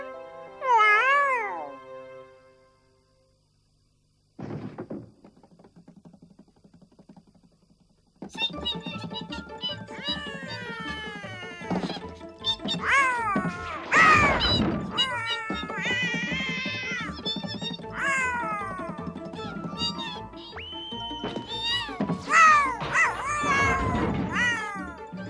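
A kitten meows repeatedly in a children's Puss in Boots fairy tale, with cartoonish high mews mixed with music and narration, loud and close, sometimes alone and sometimes under a voice.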